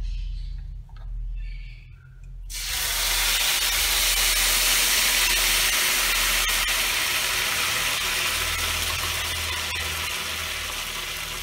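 Strained adobo sauce hits a hot pan of heated olive oil and erupts into a loud, steady sizzle that starts abruptly and continues close up for several seconds with no talking.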